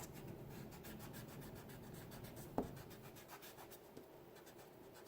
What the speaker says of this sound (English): And I can erase all my excess.